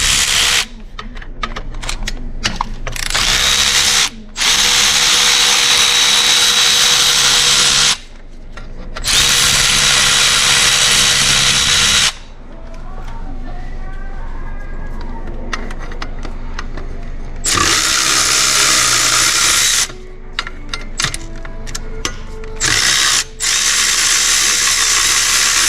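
Power tool work on the engine of a 2003 Kia Sorento as an engine mount bracket comes off: loud, close bursts of impact-driver or drill whirring and ratcheting, separated by short pauses, with no talk.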